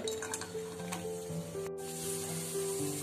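Cashews fry in hot ghee in a kadai over a slow flame, a steady soft sizzle with faint clinks and a brief stirring scrape, close and continuous with no speech.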